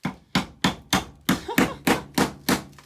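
Ten sharp, evenly spaced metallic strikes of a hammer hitting a flat-blade screwdriver against a Fox Body Mustang's wide body kit, close and loud, with no talking.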